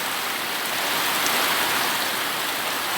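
Heavy rain pours down on a rural ranch during flooding, a dense, continuous hiss of water that is loud and steady throughout with no voices.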